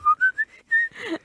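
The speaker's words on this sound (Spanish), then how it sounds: "ahí va el chiflido" A person whistles a melody from a song in a few short, clear, rising notes, then a breathy, hissy whistle, close and alone.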